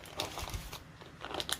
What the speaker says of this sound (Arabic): ونحوا هذا ورق الطهي غير بالعقل.